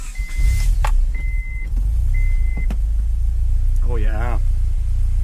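A turbocharged Honda H22 engine fitted with 1000cc injectors idles with a steady low rumble, punctuated by three short electronic beeps, while someone speaks briefly near the end.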